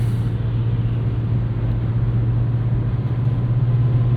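A 2024 Nissan Versa with a 5-speed manual gearbox cruises at highway speed, its engine holding a loud, steady drone near 4,000 RPM under constant road and wind rumble.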